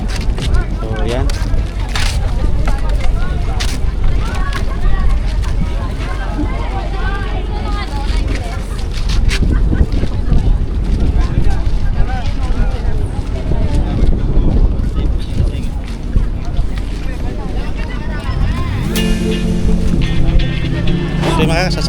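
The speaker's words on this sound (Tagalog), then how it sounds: "So mga sasakyan na kami ng bangka." A motorized outrigger bangka travels toward Alibijaban Island off San Andres, Quezon, its engine drone and rushing water and wind continuous and loud throughout, with music and voices mixed in.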